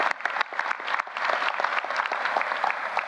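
Applause from an audience at a university presidential investiture ceremony, with individual claps distinct within a moderately loud, steady round that carries through the short stretch.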